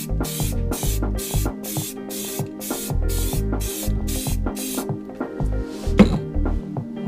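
A spray can lays a light coat on multi-piece wheel centercaps, sounding as a series of about ten short, regular hissing bursts up close, with clicks and knocks between them.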